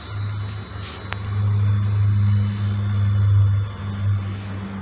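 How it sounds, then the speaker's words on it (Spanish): A refrigerator compressor hums after being plugged in, a steady low drone close by that swells and dips slightly, with faint clicks and no talk. "Aquí sí se escucha el compresor, entonces ese no es el problema."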